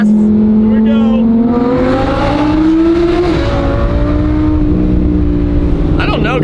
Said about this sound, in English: this car just sings when it has nothing in its way blocking friggin' those 10 cylinders